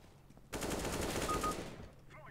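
A burst of rapid automatic gunfire from the video game CS:GO rattles out over about a second, fairly quiet overall, then trails off with faint in-game ambience.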